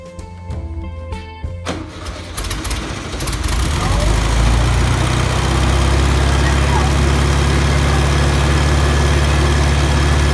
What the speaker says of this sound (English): I started the engine for the first time and it started up the first try